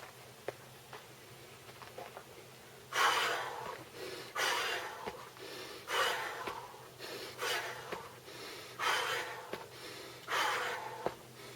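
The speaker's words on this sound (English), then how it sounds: "I'm going to deliberately, forcefully exhale" Several forceful exhales during a diaphragmatic breathing exercise arrive as a series of breathy bursts at a steady pace after a quiet start, fairly faint and close, with no talk.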